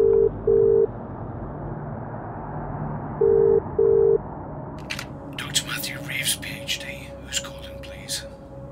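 A telephone call being dialed: two pairs of short electronic ring or busy tones sound close and clear early on, followed by brief clicking and handling noises as the line connects.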